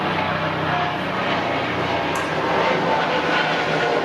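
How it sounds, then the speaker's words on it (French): A small helicopter passes overhead outdoors, a steady broad engine and rotor roar holding throughout at moderate loudness with no talk. "Merci petit hélicoptère de faire depuis le moment où il faut pas."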